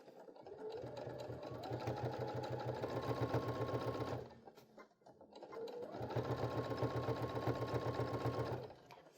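Baby Lock sewing machine stitching fabric through a bias binder attachment, running in two steady bursts of rapid mechanical whirring, each about four seconds, separated by a short pause.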